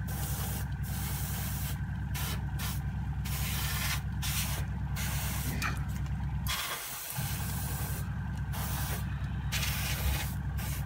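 Airbrush fed by a compressor spraying undercoat onto a miniature, a steady close hiss running almost unbroken throughout, dipping briefly once, with no talk.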